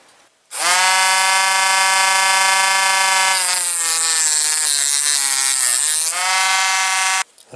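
Slots cut into carburetor screw heads with a small rotary tool, a loud, close, continuous high whine that shifts pitch midway under load and stops abruptly after several seconds.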